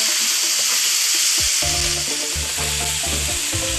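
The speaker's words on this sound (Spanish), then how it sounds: "Vamos a darle unas vueltas que se nos fría bien." Deboned chicken thigh pieces fry in a paella pan with a loud, steady sizzle, while a utensil stirs and scrapes through them in repeated close strokes.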